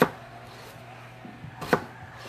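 A knife cuts through potatoes on a cutting board, giving a few separate close thunks and taps, one louder chop near the end, in a quiet room with no talk.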